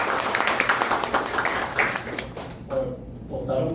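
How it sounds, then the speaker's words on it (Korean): A crowd at a lecture event claps in a dense burst of applause that fades out over a few seconds, with some voices briefly audible as it dies down. "네, 박수."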